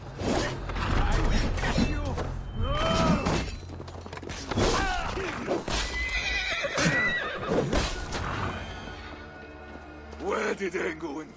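Horses neigh and whinny repeatedly in Assassin's Creed Valhalla during the siege of Paris, loud and close, with hoof clip-clops, thuds and mechanical clatter around them and voices speaking over the scene.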